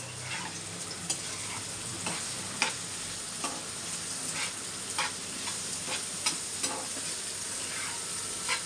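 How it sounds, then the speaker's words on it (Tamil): Food sizzles steadily in a pan over a cooking fire, a continuous crackling hiss with scattered sharper pops and ticks throughout, no voices. "பாருங்க ஃப்ரை ஆகிடுது."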